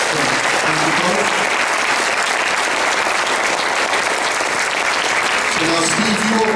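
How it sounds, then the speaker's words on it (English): Dense, sustained applause fills a debate venue, a synagogue hall hosting a political debate, loud and continuous from start to finish with a few voices faintly mixed in near the end. "they deserve our applause"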